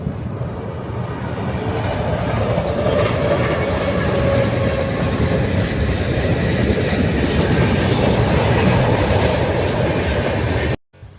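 A train rolls past near Prantik station, its steady rumble and rhythmic clickety-clack of wagons sustained and fairly close, ending abruptly, with no one talking.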